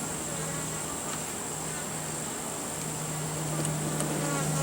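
Honeybees nesting inside a family room ceiling give off a faint, continuous, steady buzzing drone that holds without a break.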